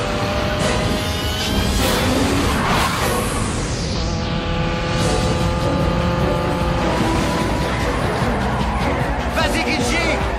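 A cartoon car in a chase revs and accelerates with a turbo boost, a loud, continuous engine roar with rising whine and tire squeal, steady throughout, with music and effects layered in.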